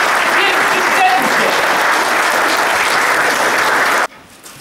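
Audience applause at an academic conference in Malbork, a dense, steady clapping from a full room that carries on loudly and then cuts off sharply near the end, leaving quiet room tone.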